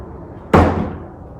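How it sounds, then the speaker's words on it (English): A 7.5-foot wooden barn door slides shut in a home, ending in one sharp, loud thud that fades over about half a second against a faint background hum. "I just love to hear that door close"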